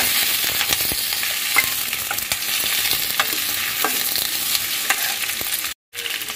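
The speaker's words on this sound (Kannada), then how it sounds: "ಇದಕ್ಕೆ ಒಂದು 2 ಸ್ಪೂನ್ ಎಣ್ಣೆ ಹಾಕಿ ಒಂದು ಸ್ವಲ್ಪ ಫ್ರೈ ಮಾಡಿಟ್ಕೊಳ್ತೀನಿ." Chopped capsicum frying in about two spoons of oil in a pan, a steady close sizzle with scattered scraping clicks of a spoon stirring, no talking.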